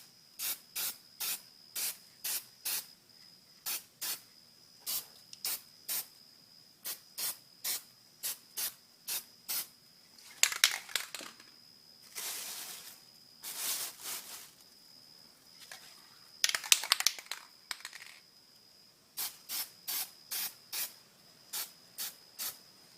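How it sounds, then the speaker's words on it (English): An aerosol can sprays high heat paint onto an ATV exhaust in many short, sharp hissing bursts, close and evenly paced at the start and end, with a few longer, rougher sprays in between. "Now I'm going to apply a little high heat paint to it, just a little bit."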